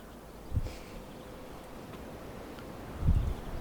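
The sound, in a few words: wind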